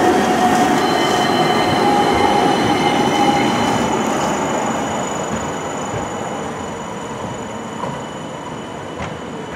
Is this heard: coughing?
no